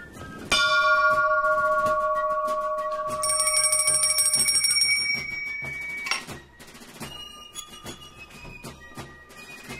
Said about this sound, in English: the bell is important in helping students keep track of their busy schedule